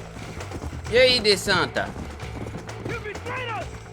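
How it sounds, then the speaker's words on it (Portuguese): Horse hooves clip-clop at a gallop in the video game Red Dead Redemption, a rhythmic thudding under a voice speaking Portuguese. "O cavalo vai passar de mim igual um foguete, galera."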